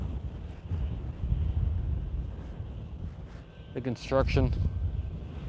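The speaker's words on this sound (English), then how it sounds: "We have some wind from the east-southeast this morning" Wind from the east-southeast rumbles and buffets a microphone outdoors at the SpaceX Starbase construction site in Boca Chica, Texas, on a morning. Someone speaks briefly over the steady low gusting.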